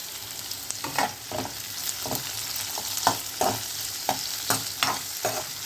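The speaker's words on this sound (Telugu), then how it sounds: "తొందర పడకుండా చాలా సిమి మీడియం ఫ్లేమ్లో పెట్టి ఫ్రై చేయండి" Chopped carrot, beetroot and capsicum fry in a pan over a medium flame with green chillies, onions and curry leaves, giving a steady soft sizzle broken by regular scraping stirs of a spatula.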